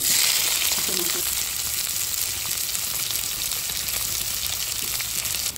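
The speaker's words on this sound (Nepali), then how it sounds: "अब चाहिँ मेरो प्याज चाहिँ हल्का खरिरहेको छ।" Onions sizzle in hot oil in a wok for a Nepali village pork curry, a steady close frying hiss running throughout with no talk.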